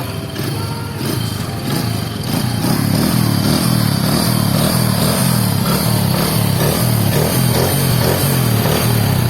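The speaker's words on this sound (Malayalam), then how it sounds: "CBR ഒന്ന് സ്റ്റാർട്ട് ചെയ്ത് നോക്കാം" Handmade Honda CBR 100 RR mini racebike engine fired up, a loud close putter with a steady rapid pulsing beat after a short start, running continuously, no talk.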